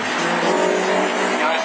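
An Audi A3 and a Peugeot 306 rallycross car race side by side, their engines roaring loudly and continuously at high revs, with a commentator's voice faintly underneath.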